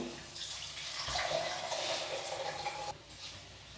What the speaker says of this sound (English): you rinse it really well, just like what we're doing right now